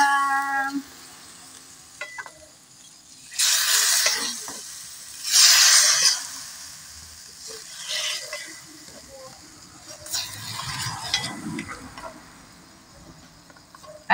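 Bitter melon and pork belly being stirred and fried in a pan, with a loud sizzle swelling in several bursts as the contents are tossed, then easing to a softer crackle; a voice talks briefly near the start.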